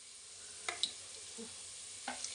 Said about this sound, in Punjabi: ਲਓ ਜੀ ਲਸਣ ਆਪਣਾ ਬ੍ਰਾਊਨ ਹੋ ਗਿਆ ਦੇਖੋ